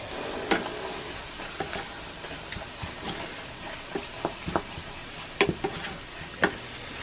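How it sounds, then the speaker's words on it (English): Flour is stirred into hot bacon grease in a cast iron pan, making a low continuous sizzle punctuated by frequent sharp clicks and scrapes of the utensil against the iron. "Stir that together until the flour is gone."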